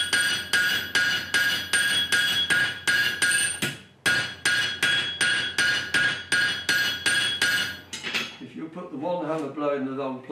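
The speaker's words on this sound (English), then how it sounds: "you put one hammer blow in the wrong place" Steady, ringing hammer blows strike steel in a quick even rhythm while forging a medieval bodkin arrowhead, pausing briefly midway, then giving way to someone speaking.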